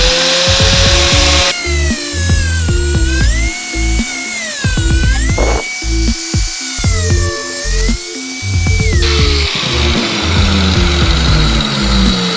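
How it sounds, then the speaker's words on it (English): An angle grinder fitted with a cutoff wheel trims a motorcycle windscreen part, producing a very loud, close, high-pitched whine that rises and falls in pitch as it bites into the material, with no talking. "I'm just using an angle grinder here with a cutoff wheel on it"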